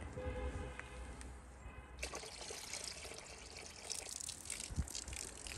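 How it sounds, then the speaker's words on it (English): Water gushes and trickles steadily into a bucket, a close, continuous pouring wash with small splashes, nothing else competing. "Yeah, put more water in your bucket."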